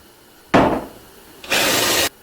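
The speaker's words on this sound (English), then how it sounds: "once I've drilled the countersinks, that way I don't try sinking the board into the wrong place" Countersinks being drilled into a wooden board with a power drill, heard as two close, loud bursts: a short cut that fades, then a longer steady grind lasting about half a second, with no talking.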